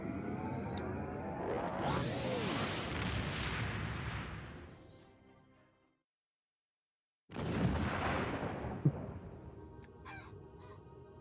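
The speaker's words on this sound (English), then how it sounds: "Oh, that was an explosion" A big explosion in Star Trek Online, a long loud roaring blast that slowly dies away into a few seconds of silence, then a second burst of rumbling and crackling debris with a sharp crack near the end.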